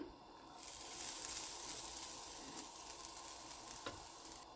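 Grated coconut frying in a pan on low heat for crab curry, a steady bright sizzle with occasional stirring scrapes, close and continuous without voices.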